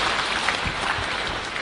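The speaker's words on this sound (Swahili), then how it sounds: "Tumpongeze rais tena kwa makofi." A crowd applauds the president at a burial, with dense, continuous clapping throughout that is loud and fairly close, with no voices standing out.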